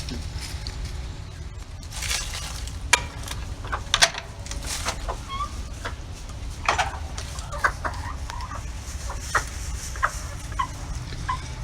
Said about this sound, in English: Here's another hen.